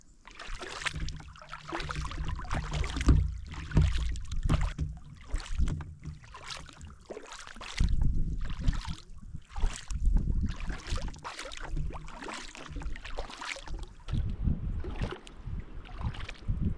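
A kayak paddle dips into the water across Smoke Lake toward Ragged Lake in Algonquin Park, with close, regular splashes and drips in a steady stroke rhythm, mixed with light wind buffeting on the microphone.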